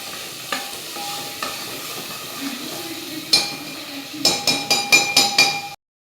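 Masala stirred in hot oil in a pan for home-style chicken curry, a low sizzle under scattered spoon scrapes, ending in a quick run of sharp metallic clinks before cutting to silence.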